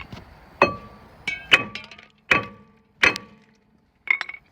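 A series of about six hard hammer blows against a stuck brake disc on a Citroen C1, each a loud ringing metallic clang close by, struck at irregular intervals with brief pauses between.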